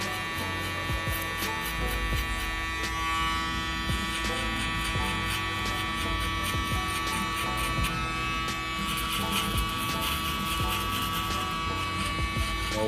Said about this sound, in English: The trimmers create our bald line.